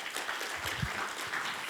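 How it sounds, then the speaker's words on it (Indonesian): Congregation clapping during an Ascension Day church service, a steady wash of applause filling the short moment with scattered louder claps and no talk. "Tepuk tangan buat Tuhan Yesus."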